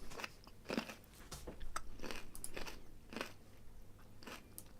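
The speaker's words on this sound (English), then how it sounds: "Obviously, I can hear myself munching, but I don't know if that's going back through the microphone." Crunchy munching of food close to a microphone, with repeated bites and chewing crunches in an irregular rhythm over about five seconds.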